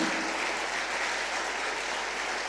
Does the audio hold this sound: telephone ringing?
no